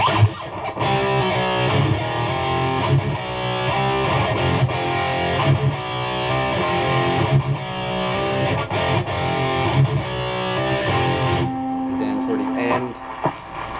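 A distorted electric guitar plays a palm-muted riff, chunky and rhythmic with tight chugging notes, loud and continuous, ending with a sustained ringing note.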